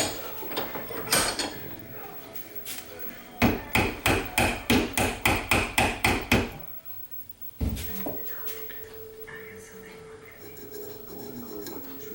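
A wooden wedge being hammered into the handle of a loose hammer head, a steady run of about a dozen sharp, evenly spaced blows, close and loud, framed by quieter handling noise.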